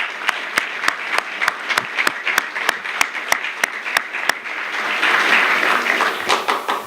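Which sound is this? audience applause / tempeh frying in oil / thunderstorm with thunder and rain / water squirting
audience applause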